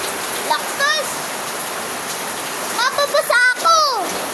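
Heavy rain pours in a steady, loud roar throughout, with a voice speaking in bursts near the start and again toward the end.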